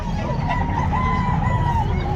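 Rooster crowing once at an open-air pet market, a loud, close, drawn-out call over a dense hum of crowd noise.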